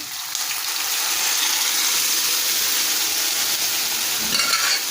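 Cooked dal goes into a pan of gongura leaves and is stirred, giving a steady bright sizzle with soft wet scraping that stays even and close for the whole stretch, with no talking.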